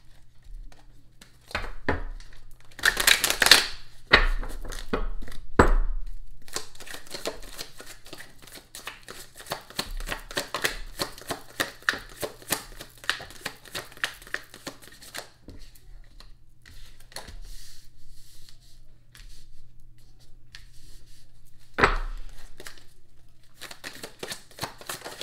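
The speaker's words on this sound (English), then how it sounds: "Let's get five more cards out here" Tarot cards are shuffled and drawn in a series of soft riffling bursts and sharp, quick card snaps at irregular intervals, close and fairly quiet against a low steady hum.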